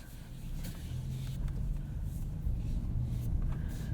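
A 2021 Genesis GV80 2.5T rear-wheel drive SUV cruising on the road, a low, steady engine and tyre hum heard faintly from inside the cabin.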